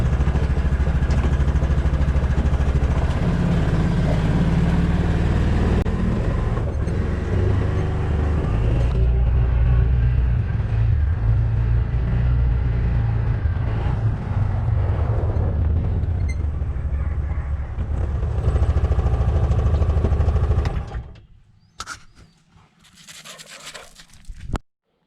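A Yamaha Rhino UTV engine runs in a steady, loud, close rumble for about twenty seconds, then cuts off, leaving a few quieter knocks and rustles.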